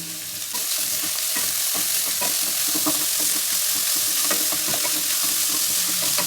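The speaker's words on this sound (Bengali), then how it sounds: "আমি পেঁয়াজ কুচিটা এটার মধ্যে অ্যাড করে নেব দেখো হালকা ভাজা হয়ে গেছে" Chopped onions hit hot oil with a sudden loud sizzle, then keep crackling steadily up close as they are stirred.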